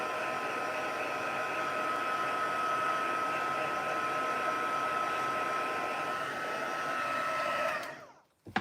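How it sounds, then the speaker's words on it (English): A handheld crafting heat tool blows steadily for several seconds at close range while warming the back of a stamped card, a loud even whirring rush with a faint whine that cuts off abruptly near the end. "I'm just going to put my heat tool on and see if I can help."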